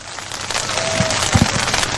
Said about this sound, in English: Rain still coming down, but it's slowed a little bit